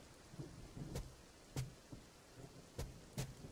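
Rainfall and thunder in a horror video game, a steady patter of rain broken by several sharp thunder cracks spaced a second or so apart, heard alone without voices.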